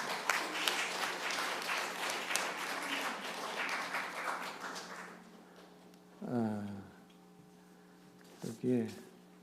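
Church congregation applauds graduates at a Sunday worship service, a roomful of clapping for about five seconds that fades out, followed by someone speaking.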